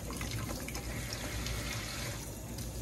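Warm tap water runs steadily into a tub, a continuous splashing rush that stays even throughout with no voices.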